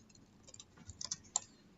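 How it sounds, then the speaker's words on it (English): Soft, quiet clicks of typing on a computer keyboard while writing Java web service code, irregular light taps with a few sharper keystrokes, no voice. "So you notice as I'm typing"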